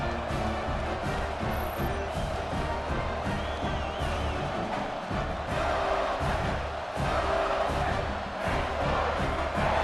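A packed stadium crowd roars and cheers steadily after a kickoff return touchdown at the start of a college football second half, a dense, sustained wall of voices with no break.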